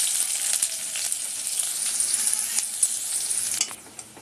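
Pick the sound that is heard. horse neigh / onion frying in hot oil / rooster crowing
onion frying in hot oil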